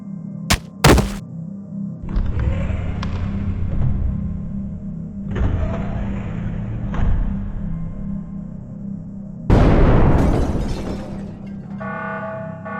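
An explosion in the Minecraft game sounds as one sharp, loud game-style blast and is followed by several duller thuds and a rumbling crash, with background hum underneath.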